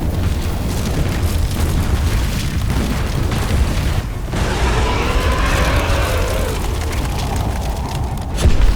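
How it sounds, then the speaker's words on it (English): Violent steam explosions as an icy blue beam strikes a primordial fire, a loud, continuous roaring rumble with hissing bursts that swell midway and end in a sharp thump. "Blue flare collides with cold air, causing violent steam explosions."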